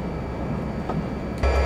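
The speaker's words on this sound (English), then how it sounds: "They did do a really good job with the sounds of the actual trains" An SD40-2 locomotive in Train Simulator hauls a supply train on the Essex to Kalispell route. A steady, dense low rumble of diesel engine and rolling stock grows a bit louder and heavier toward the end, with no talk.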